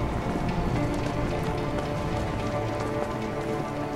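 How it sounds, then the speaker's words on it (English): Steady rain in the video game A Way Out patters on a surface, a constant dense hiss with scattered drops, no voices, evenly loud throughout. "I think it's raining outside"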